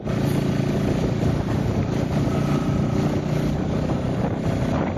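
A motorcycle cruising in high gear at low rpm on a road ride to Changunarayan, a steady low engine drone mixed with rushing wind noise, constant and fairly loud throughout.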